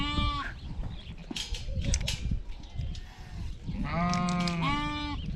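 Sheep bleat on a Karoo farm in South Africa's Northern Cape, a few loud, wavering calls near the start and a longer pair of cries toward the end, with wind and a rough outdoor rumble beneath.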